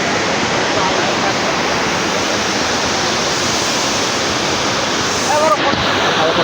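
The Droneshwar waterfall, swollen after rain, roars as a steady, loud broadband rush close by, with a few faint bird chirps near the end.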